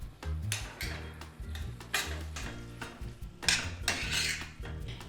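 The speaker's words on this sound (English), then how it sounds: "she spoons in a teaspoon of salt and gives everything another stir" Pan and spoon clatter with a scraping stir through seasoned mashed potato in a home kitchen during Puglian rustic potato pie preparation, as repeated metallic clinks and scrapes over background music.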